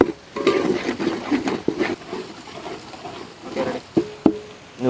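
Crushed ginger and garlic sizzle in a hot pan with a steady, close frying crackle, broken by several sharp clatters of a spoon or spatula against the pan.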